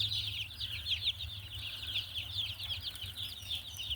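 Around sixty baby chicks raised for meat and eggs peep constantly in a brooder, a dense overlapping chorus of high chirps over a low steady hum.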